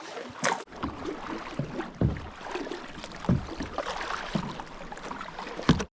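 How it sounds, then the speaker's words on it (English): A kayak is paddled across water in the Wild West, with soft rhythmic splashes and drips from the strokes under light wind. "I'll paddle us all the way there"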